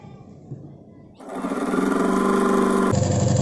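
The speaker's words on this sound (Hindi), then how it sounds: "तो मैं पहले इसकी साइड की सिलाई लगा लेती हूँ।" A sewing machine stitches the side seam of a crop top, starting after a quieter moment and running as a steady, close, fast mechanical hum that shifts pitch near the end.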